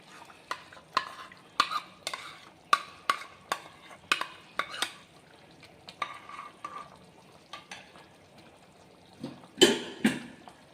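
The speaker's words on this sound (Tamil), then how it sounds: "இப்போ நம்ம தேங்காயை நம்ம அரைச்சி வச்ச மசாலாவையும் இதோடு சேர்த்துக்கிறோம்" Coconut and ground masala being stirred into a simmering Chettinad fish curry, a spoon scraping and clinking against the pot in a steady run of strokes, close and alone with no talk.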